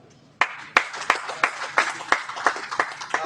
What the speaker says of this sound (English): another round of applause for Sina Kenya